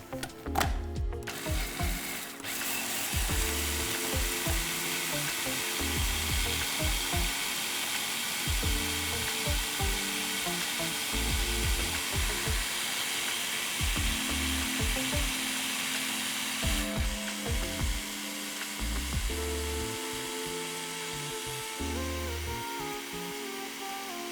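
A food processor grinds peanuts toward a smooth paste, a loud, steady whirring motor drone with a rattling, grinding texture that runs continuously for over twenty seconds, with no speech over it.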